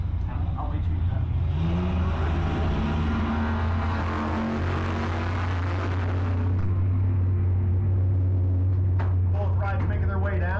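Drag racing at a cruise night: a 71 Chevelle and a 6-shooter Nova roar loudly down the strip, engines droning and fading into the distance as an announcer talks over them.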